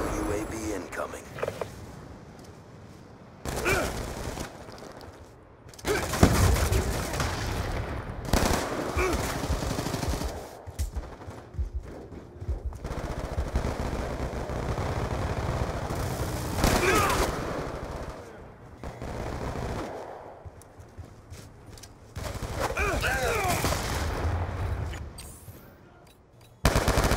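Sustained machine-gun fire in Call of Duty: Black Ops II multiplayer as players shoot down a hostile UAV, loud rapid bursts repeating over half a minute with voices talking throughout.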